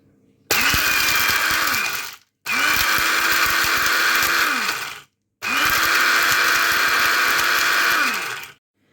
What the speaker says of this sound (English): this is our mixture in the blitzer, and we're just going to whisk that up